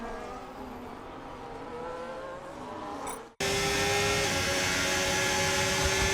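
Formula 1 race cars at the United States Grand Prix in the F1 25 video game, giving a loud continuous engine whine that shifts pitch as the car changes gear, with no talking.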